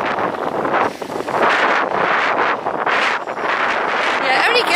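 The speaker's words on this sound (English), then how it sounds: "It's a bit windy." Gusty wind buffets a microphone on a seaside cycle path, loud surging roars that swell and ease in waves from start to finish, with no other sound breaking through.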